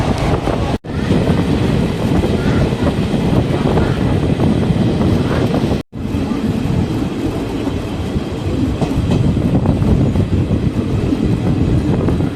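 Loud, continuous rumble and rattle of a passenger train in motion between Erode and Palakkad, with wheels clattering and wind buffeting, broken by two brief sudden drops in sound.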